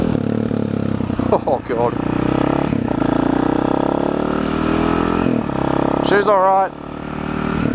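Husaberg two-stroke motorcycle ridden on a country road, a steady loud engine drone with wind rush running throughout, briefly dipping near the end; a voice speaks over it a couple of times.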